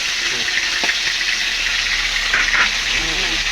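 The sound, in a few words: frying fish (torsilyo) in a pan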